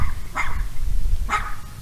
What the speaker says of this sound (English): there's a dog behind me